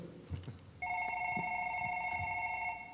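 A telephone on a game show set starts ringing partway through and keeps up a steady, bright electronic tone to the end, with a few soft thumps and faint background noise beneath it.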